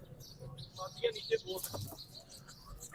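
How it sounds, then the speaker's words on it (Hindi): Pigeon at a busy bird market in Lahore, a few short coos and wing-flutter sounds near the microphone amid background chatter and market noise, with people talking nearby. "ये कबूतर है।"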